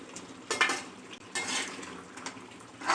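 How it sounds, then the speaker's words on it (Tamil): Chicken gravy with tomato, cooked without added water, stirred in a pot: a spoon scrapes and clinks against the metal in a few irregular strokes, soft and close with a faint simmer underneath. "இப்போ நம்ம அடிக்கடி இப்படி கொஞ்சம் கிளறி விட்டுக்கணும்."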